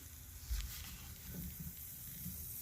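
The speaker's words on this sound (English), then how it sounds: "you can hear the fizzy sound." Mildly fermented homemade lemonade made with juice and sugar gives off a faint, continuous fizzing crackle, quiet and close, with a small bump of noise near the start.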